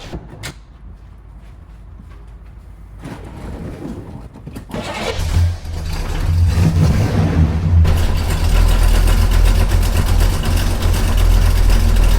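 A 1971 Oldsmobile 442 W-30 cranks and fires up after a few seconds of quiet clunks, settling into a loud, rumbling idle that fills the rest of the clip, with no talk over it.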